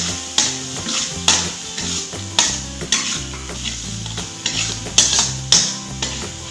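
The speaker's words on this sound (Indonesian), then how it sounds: "Selanjutnya ini aku masukkan udang." Riau-style sago noodles fry in a pan as shrimp go in, with a steady close sizzle and rhythmic spatula scrapes and clanks against the metal.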